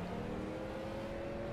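Street stock race cars in the iRacing simulator roar steadily near the start line, a dense continuous engine drone with a sustained tonal whine and no talk.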